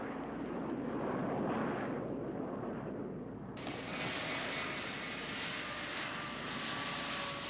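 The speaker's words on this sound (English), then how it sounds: "It's so perilous with all these planes on the runway taking off." Jet airliners taking off on an airport runway in the 1968 film Bullitt, a loud rumbling engine roar that suddenly switches to a bright, sustained high-pitched whine partway through, with no voices.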